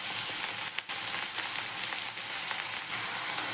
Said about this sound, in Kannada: ಒಂದು 5 ನಿಮಿಷಗಳ ಕಾಲ ಫ್ರೈ ಮಾಡಿ ಫ್ರೆಂಡ್ಸ್.